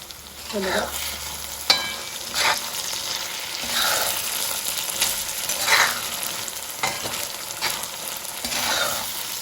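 Prawn pulao with shrimp sizzles and fries in a pan, with repeated scraping stir strokes of a spatula over a steady close crackle, no voices.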